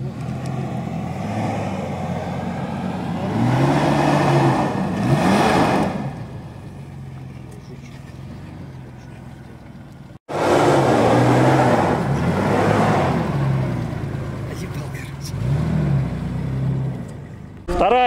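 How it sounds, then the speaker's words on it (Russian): A Lada Niva engine runs with a rough, steady drone that surges twice into louder revving, dropping away briefly between the bursts, with no speech over it. "Мотор, видишь, он еще крутится."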